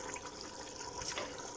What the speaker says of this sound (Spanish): A continuación echaremos como medio vaso de agua, entre medio vaso y un vaso de agua.